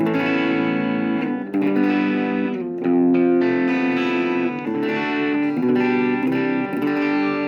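A distorted electric guitar through a Boss DS-1W distortion pedal plays sustained chords with a thick, saturated crunch, continuous and loud with brief dips between strums.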